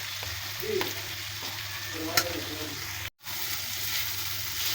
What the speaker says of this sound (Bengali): এবার আমি এগুলোকে একটু ভালো করে ভেজে নিচ্ছি যেন আদা রসুনের কাঁচা গন্ধটা না থাকে